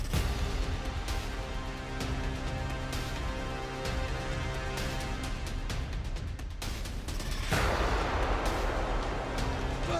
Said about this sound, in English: Just a little run with an explosion behind us.